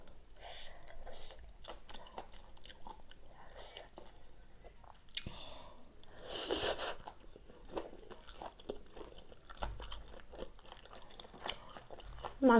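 Grilled giant river prawn being eaten, with close, steady wet chewing, biting and crunching sounds throughout and a brief louder smacking burst in the middle.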